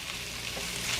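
Beef and broccoli coated in a sticky cornstarch mixture sizzling in hot oil in a pan, a loud, steady, close frying hiss with no voices.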